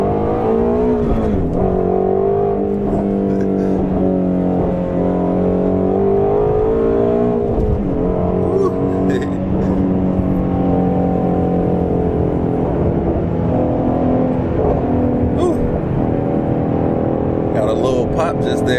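A Ford Mustang GT350 engine roars loudly as it pulls hard onto the highway, pitch sweeping upward through the gears with a brief dip at a shift, heard from inside the car.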